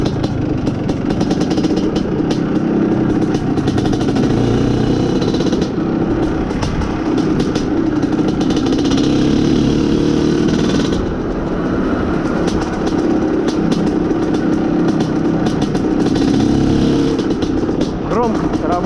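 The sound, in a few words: Izh Planeta Sport motorcycle engine running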